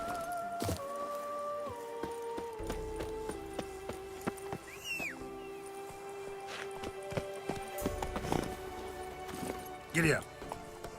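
Hooves clip-clop in rhythm as a horse moves at speed in The Witcher 3, joined by game sounds and a voice talking over them.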